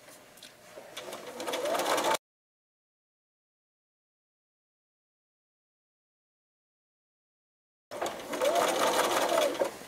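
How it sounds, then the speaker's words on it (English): A sewing machine stitches a seam around a T-shirt pillow, a close, steady whirring drone. It runs about two seconds, cuts to silence, then resumes near the end. "I'm going to sew around the outside of this pillow"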